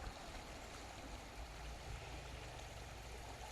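Flowing stream water in a nature setting, a steady, soft, continuous wash and trickle with no breaks, moderately faint and heard alone.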